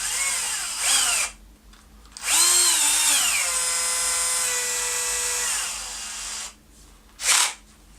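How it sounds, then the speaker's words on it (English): Power drill boring a hole in scrap wood while test-fitting guitar neck screws, two whining bursts with a long steady run in between, close and loud, then a short final whir. "drill a hole in this scrap wood."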